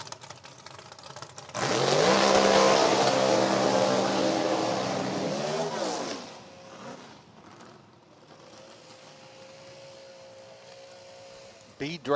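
A B dragster drag racing car with a high-winded small block engine roars down the strip at a drag raceway, a loud sustained blast for several seconds that fades as it pulls away, followed by faint background noise.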